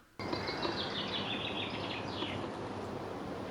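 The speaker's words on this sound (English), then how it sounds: "just listen to that chaffinch" A chaffinch sings a bright descending trill of chirps, repeated over a steady hiss of outdoor ambience in Cornwall in June.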